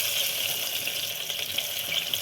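Cardamom pods, cinnamon and chopped onion sizzle in hot oil over a high flame, making a loud, continuous close hiss with small crackles and no pauses.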